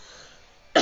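A person gives a single short, sharp cough at the very end, after a near-silent pause.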